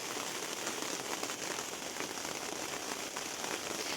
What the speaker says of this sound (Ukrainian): дощ хлище.